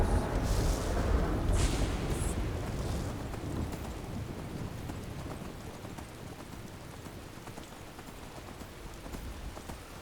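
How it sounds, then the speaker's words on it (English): Steady, heavy rain hisses throughout the Skyrim outdoors, with a low rumble of distant thunder at the start that fades into a constant downpour. "Off through a bit of rain."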